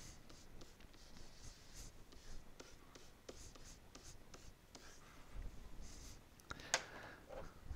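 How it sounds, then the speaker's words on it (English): Quiet, close scratching and tapping strokes of writing an algebra equation on a board, in short irregular bursts with small clicks. "so I'll write it bigger"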